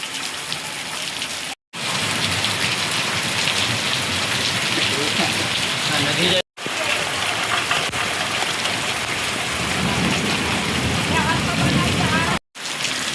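Heavy rain pours down in a dense, constant roar, broken only by a couple of brief cuts to silence.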